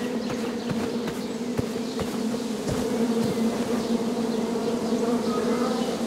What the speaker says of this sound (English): Shame about that buzzing beehive